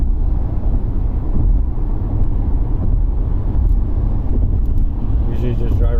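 2016 Kia Soul with a 2.0-litre engine and a no-power fault cruising on the road, a loud constant rumble of engine, tyre and wind noise heard from inside the cabin, steady throughout.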